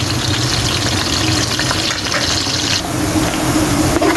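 Onions frying in oil for chana pulao give a steady, loud, dense sizzle throughout with no talking over it.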